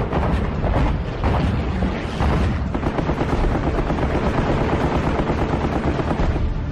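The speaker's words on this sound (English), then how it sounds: "The gutsy pilots brave a sky torn with flak." Anti-aircraft flak fire over a 1944 naval battle, with US carrier aircraft attacking the Japanese battleship Musashi: dense, continuous bursts of gunfire and explosions fill the whole stretch at a steady loud level, with no speech.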